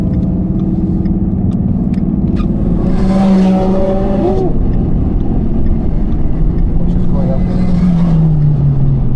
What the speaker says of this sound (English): Couple of cars coming, bro.